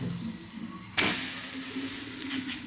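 Food flipped into a hot pan with a little oil for a quick healthy breakfast, bursting into a sudden loud sizzle that keeps crackling steadily, preceded by quiet kitchen sounds.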